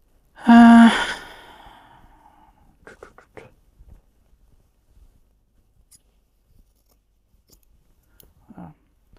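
Scissors snip through a piece of jersey fabric in one loud, close cut near the start, followed by quiet scattered rustles and small handling sounds.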